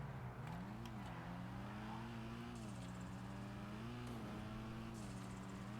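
Engine of a Blista Kanjo compact car in GTA Online drones steadily, its pitch rising and falling through several rev swells over a constant low hum, with no talk.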